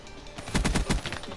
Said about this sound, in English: Put some shots into that guy.